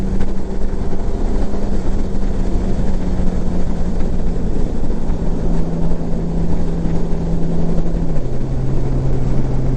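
A Honda Gold Wing DCT motorcycle engine drones steadily while riding, a loud continuous hum with heavy wind rush that drops in pitch as the transmission holds and then shifts through the gear.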